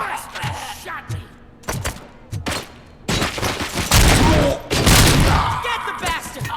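Gunfire in the RoboCop: Rogue City video game: scattered loud shots in the first half, then dense overlapping volleys and bursts that sustain loudly to the end.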